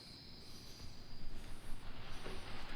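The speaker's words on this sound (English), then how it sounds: "Cicadas stop." Cicadas drone steadily in a forest at night as a continuous high buzz over dense, rustling background noise that swells slightly as it goes on, with spider monkeys nearby.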